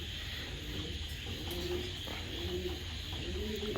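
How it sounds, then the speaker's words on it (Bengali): Pigeons coo softly and repeatedly at close range, a few low rolling calls over a steady hum of background noise, with no voices. "দুইটা কবুতর দিলাম"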